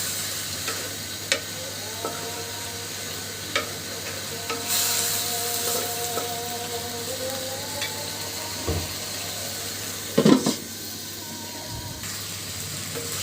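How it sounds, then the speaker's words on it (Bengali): Winter vegetables sautéing in a pan for a light fish curry, a constant sizzle with occasional scraping stirs and a couple of louder knocks near the end. "তো আমি সবজিগুলো খুব সুন্দরভাবে কষিয়ে নিচ্ছি।"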